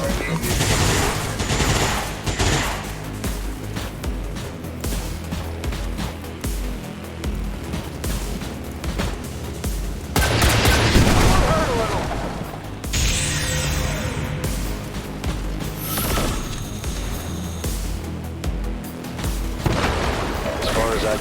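Heavy, rapid bursts of weapon fire and booming blasts from a Wrath Cannon in the video game XCOM 2, loud and sustained, with a voice talking over the barrage.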